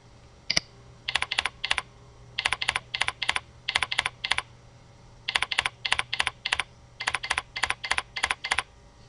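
Answers being typed on a computer keyboard, with rapid bursts of crisp key clicks in several quick groups separated by short pauses, close and clear over a faint steady hum.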